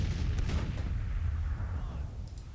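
Artillery fire in Grand Tactician: The Civil War, a low, continuous rumble of distant cannon booms rolling together with a few faint sharper reports on top, steady and loud throughout.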